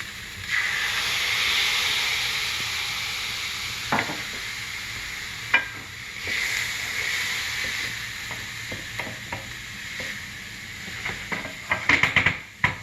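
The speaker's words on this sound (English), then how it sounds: "We're gonna deglaze a little." A pan of stir-fried tofu hisses and sizzles steadily as it is deglazed, a loud steam burst fading into a softer crackle with scattered clinks of a utensil stirring near the end.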